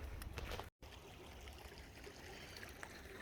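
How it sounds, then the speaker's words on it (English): Small stream crossing on a wooded hiking trail, a quiet continuous trickle and gurgle of water heard faintly and steadily, with one brief dropout. "Small stream crossing here on Bunker Hill Trail."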